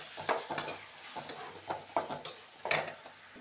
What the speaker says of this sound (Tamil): தக்காளி நல்லா வதங்கிடுச்சு